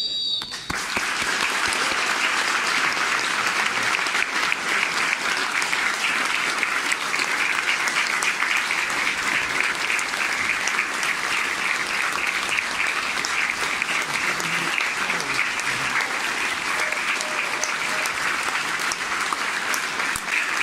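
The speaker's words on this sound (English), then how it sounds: "It's been a minute of applause for Ray Wilkinson, who passed away recently." A stadium crowd gives a sustained minute of applause before a Mansfield Town versus Crewe Alexandra football match, a dense, even wash of clapping that carries on without a break.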